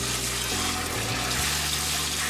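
Tap water running into a kitchen sink while an Alocasia Amazonica houseplant is watered, a steady, loud, continuous rush with a low hum beneath it.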